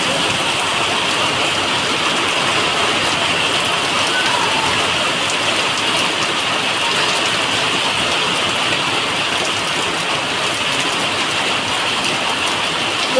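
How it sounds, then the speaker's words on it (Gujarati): Heavy rain pours without a break, a loud, dense hiss of drops striking surfaces nearby and holding at an even level throughout. "બહુ મસ્ત વરસાદ આવે છે અત્યારે."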